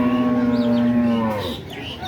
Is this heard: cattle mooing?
yes